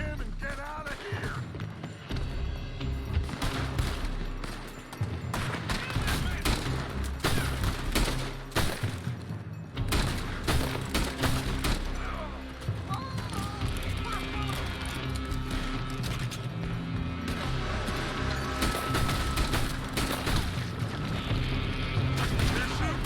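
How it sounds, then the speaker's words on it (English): Sustained gunfire in Red Dead Redemption 2 during a shootout, with a dense stream of rifle and pistol shots and heavy booms going on throughout, up close, while voices shout and talk over the battle. "They're shooting from that building."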